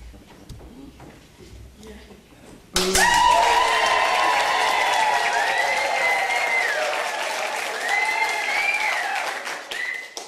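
An audience bursts into loud, sustained applause and cheering after a few seconds of quiet talk, the clapping staying full and steady to the end with whoops rising above it.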